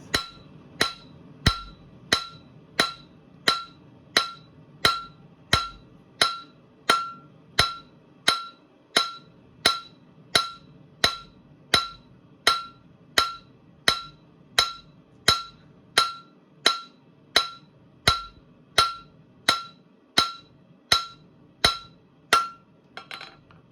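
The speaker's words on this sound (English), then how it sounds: "We're not gonna use the edges of the anvil, and we're only gonna use the face" Hot steel struck on the face of a blacksmith's anvil, a steady run of about thirty sharp ringing hammer blows, evenly spaced and close, with no talk.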